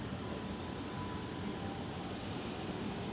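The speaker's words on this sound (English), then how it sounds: "Here comes our train." A Class 444 train arrives at Guildford station as a steady, fairly quiet rumble that holds evenly throughout, with no voices.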